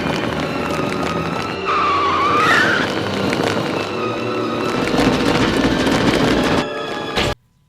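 A cartoon scooter skids on a punctured wheel at night: a loud, sustained rough roar with a rising squeal partway through, ending in an abrupt cutoff.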